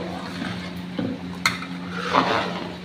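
Semiya kheer with almonds, cashews and raisins being stirred in a pot, giving soft scraping and light metallic clinks of a spoon against the pot over a steady low hum, with a brief sharp clink partway through.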